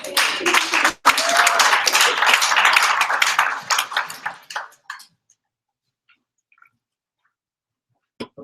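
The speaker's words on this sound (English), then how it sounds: "Big round of applause for Elise." Clapping and applause from an audience at a hackathon evening event, welcoming a volunteer; a dense burst of hand claps for about four seconds that tapers into scattered claps and then silence.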